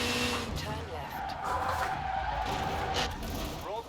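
In Forza Horizon 4, a car swings into a reverse-entry drift, its tires squealing loudly over a revving engine for a few seconds, with a voice talking over it.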